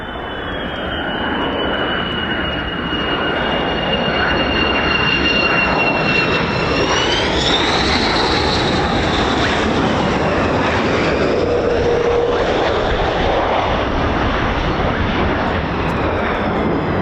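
A USAF 48th Fighter Wing F-15 or F-35 fighter jet departs RAF Lakenheath, its engine roaring loudly and continuously with a rising whine that shifts in pitch as it passes.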